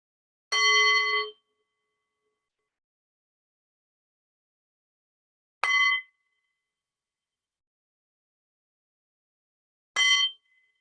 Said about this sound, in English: we'll begin our time with the sound of 3 bells.